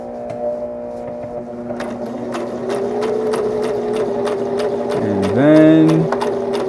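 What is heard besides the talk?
sewing machine sewing fabric for a Green Lantern costume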